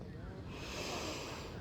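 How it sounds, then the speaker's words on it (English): A single deep inhale during a yoga practice, soft and airy and close to the mic, lasting just over a second. "Take a nice deep breath here."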